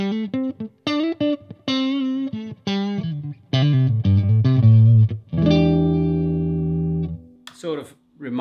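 Clean electric guitar through a Bad Cat Cub 40R tube amp with 12AX7 preamp: a few plucked notes and chords, then a full, warm chord left ringing out before a brief pause and more picking.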